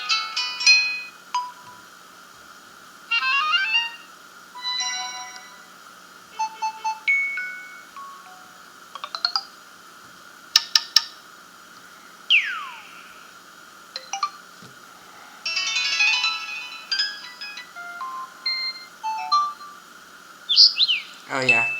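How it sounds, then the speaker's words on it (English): LG phone ringtones playing one after another: short electronic chirps, trills and tonal jingles separated by brief pauses, with a few sweeping tones, clear and close. "here are the ringtones."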